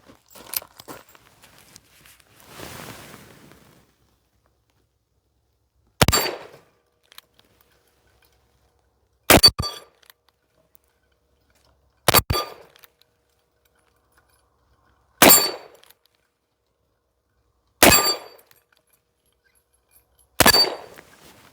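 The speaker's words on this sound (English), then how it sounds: "shooting two-handed, modern, going for extreme accuracy" Six loud, sharp shots from an 1858 Remington revolver fired two-handed at cards, spaced slowly about three seconds apart. Faint handling sounds come before the first shot.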